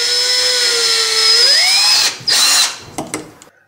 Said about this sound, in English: all the holes that I drill on the door will be the same